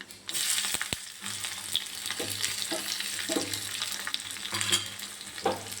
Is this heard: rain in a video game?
no